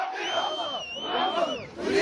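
A dense crowd of Gaddafi's supporters in Libya surrounds him on a walkabout, chanting and shouting together loudly and continuously at close range.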